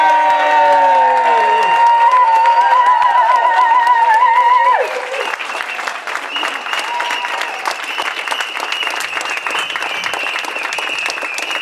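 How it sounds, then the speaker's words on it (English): Crowd at a solidarity vigil for Julian Assange bursts into loud, sustained cheering and applause, with a held sung or shouted tone at first giving way to dense, steady clapping. "Please join me in giving a huge tumultuous cheer to Julian Assange."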